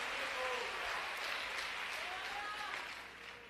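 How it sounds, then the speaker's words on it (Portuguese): Applause from a church congregation during a sermon, a steady broadband wash of clapping that stays fairly even before tapering at the end, with a voice faintly heard over it. "E aí Jesus, se vocês querem aplaudi-lo, faça, aleluia."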